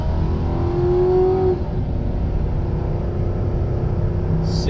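A 2008 Crown Victoria Police Interceptor launches hard from a standstill, its engine roaring loud and steady as it accelerates, with a rising whine that drops away after a second and a half and a constant close, heavy rumble continuing.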